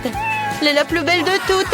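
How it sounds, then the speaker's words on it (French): A pet cat gives short meows indoors, partly mixed under someone speaking French close by. "C'est mon chat"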